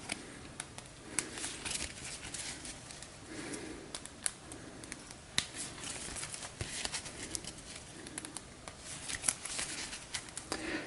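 Cards from an encounter deck being shuffled during a tabletop board game session, a soft continuous papery riffle and patter with small clicks running throughout, fairly quiet and with no talking.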